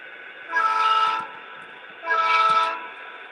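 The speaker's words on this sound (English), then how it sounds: "Look at that, we even got a toot from the engineer." Model train locomotive horn on a home layout, two clear toots of a multi-tone horn, each about half a second long and well separated, close and loud over a faint steady background hum.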